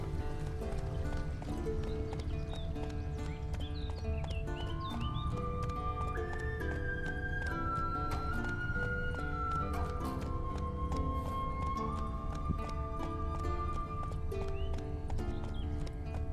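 A horse's hooves clip-clop at a steady pace in The Witcher 3 video game, set under sustained melodic game music, with a brief neigh-like sound.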